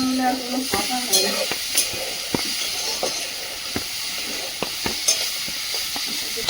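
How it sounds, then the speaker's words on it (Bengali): Bitter gourd fries in a generous amount of oil, giving a steady close sizzle with repeated sharp clicks and scrapes of stirring throughout; no talking. "ভাজা একটু তেল বেশি হলে ভালো লাগে।"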